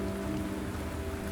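Steady, dense rain falls on a surface in an even, continuous hiss with no breaks or other sounds.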